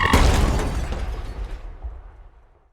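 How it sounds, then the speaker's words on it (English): A loud crash hits at once, a burst of smashing and crunching impact that slowly fades away to silence. "Here's the sound of getting hit by a car."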